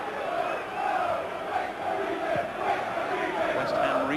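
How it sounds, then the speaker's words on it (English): Chelsea football fans booing loudly throughout a stadium crowd during a match against Manchester United, a sustained dense roar of massed voices that holds steady for several seconds. "all the Chelsea fans are booing the fact that he took so long to get back on his feet then"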